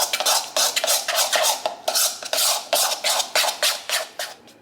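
A spoon stirs a dip seasoned with pepper and salt in a bowl, giving a quick run of rhythmic scraping and clinking strokes, close and fairly loud, with no talk.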